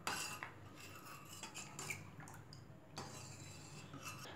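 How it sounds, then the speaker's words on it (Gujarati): A spoon stirs turmeric into thick boiling lentils in a pot for sambar, giving quiet scraping and light metallic clinks at an uneven pace, faint and close, with no talking. "હળદર એડ કરી અને બરાબર હલાવી લઈશું."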